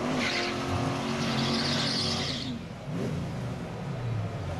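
Race car engines roar and tires squeal as the cars pull away, the noise dipping briefly before rising again.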